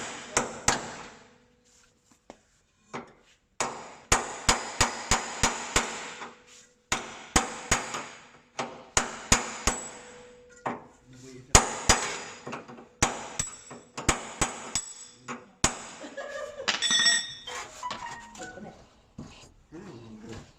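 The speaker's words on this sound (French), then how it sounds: "on va prendre un marteau, un burin et on va les dévisser." A hammer strikes a chisel in quick close metallic blows, grouped in bursts with short pauses, to loosen the bump stops on an Adria camper van suspension; a dog whimpers faintly in the background.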